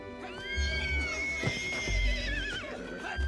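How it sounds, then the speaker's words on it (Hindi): A distressed mare whinnies loudly for her foal in a Bollywood film scene, with several long, wavering, high-pitched neighs and snorts, close and dominant, with faint background sound. "देखा तो घोड़ी अपने बच्चे के लिए तिलमिला रही थी"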